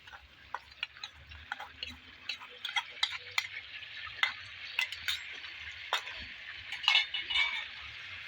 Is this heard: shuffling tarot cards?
no